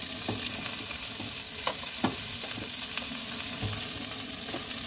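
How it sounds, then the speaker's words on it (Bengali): Cashews fry in hot oil in a pan for butter chicken, giving a steady dense sizzle with occasional soft clicks of stirring throughout, close and continuous with no voices. "এটা লাল লাল করে আমি ভেজে নেব। এটা আমার ভালোভাবে ভাজা হয়ে গেছে। এবার আমি এতে দিয়ে দেবো কাজু"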